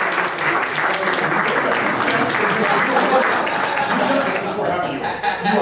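An audience at a magic show breaks into steady, full applause, dense clapping sustained throughout with a faint chuckle beneath it.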